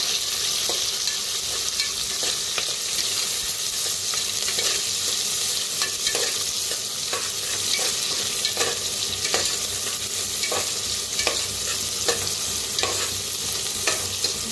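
Garlic, green chili and curry leaves sizzle steadily in hot oil in a home kitchen, with repeated sharp scrapes and clicks of stirring across the pan.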